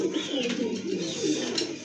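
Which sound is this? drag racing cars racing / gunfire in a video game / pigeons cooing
pigeons cooing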